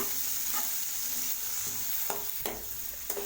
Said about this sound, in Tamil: வெங்காயம் நல்லா வதக்கி விடுங்க.